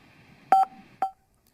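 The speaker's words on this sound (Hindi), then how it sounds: "नवीन पांडे लगातार उन्हें फोन कर रहे हैं, अभी भी उन्हें फोन कर रहे हैं वो" A few short telephone keypad tones beep in quick succession, two close together and then one more, clear and alone against a faint hum.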